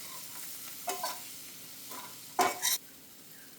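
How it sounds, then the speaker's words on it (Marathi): Potatoes and mint leaves fry in a pan while being stirred, a constant soft sizzle broken by a few scraping stirs, the loudest pair coming near the end. "आता हे परत एकदा आपण थोडं हलवून घेऊयात, जेणेकरून पुदिनाही परतला जाईल"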